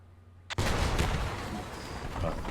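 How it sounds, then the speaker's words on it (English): Tank ammo rack exploding in a video game: a sudden sharp blast followed by a sustained crackling roar of secondary detonations, loud and close, with no voices. "That's go. the ammo going off. There's the fireworks."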